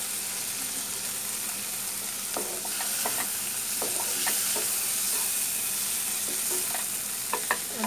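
Tawa pulao ingredients being stir-fried in a pan without oil, giving a steady soft sizzle with scattered scrapes and clicks of a spatula stirring throughout.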